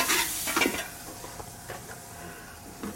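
Onions and garlic frying in a pan for braised collard greens, stirred with a utensil: steady close sizzle with a few brief scraping strokes across the pan.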